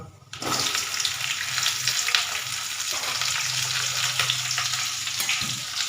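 Chopped okra tipped into hot oil with frying garlic and black cumin, giving a sudden burst of loud, broad sizzling that holds steady, with faint stirring scrapes underneath.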